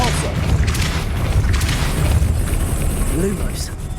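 Depulso spell being cast in Hogwarts Legacy, a loud booming blast with rumbling bursts and a magical whoosh, under a voice speaking throughout.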